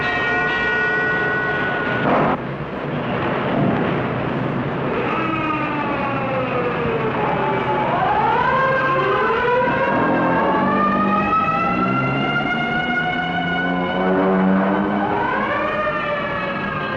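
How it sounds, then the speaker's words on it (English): A civil defense siren wails over Portland, its pitch rising and falling in long sweeping cycles, loud and echoing, with overlapping tones and no voices. "the banshee wail of the siren echoes the warning"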